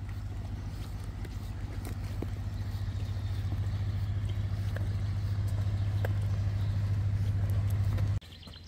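A motorboat on a canal drones with a steady low engine hum that builds slightly and then cuts off abruptly near the end, with faint outdoor background.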